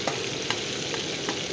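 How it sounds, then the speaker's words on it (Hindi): Spices frying in hot oil for village-style tomato chutney: a steady close sizzle with faint stirring clicks at intervals, no talking. "इसी को मैं थोड़ा सा भून लेती हूँ ताकि हमारे जो खुशबू है वो टमाटर"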